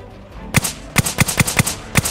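Rapid gunshots in a video game crack out in a loud, close burst of about eight sharp reports, clustered irregularly after a brief quiet start.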